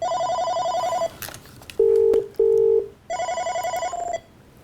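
An incoming call rings an office telephone in a call-recording setup: two bursts of electronic ringing with a steady pitched tone between them, loud and close, with no talk.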